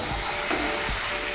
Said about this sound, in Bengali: এর মধ্যে এখন আমি দিয়ে দেব জল।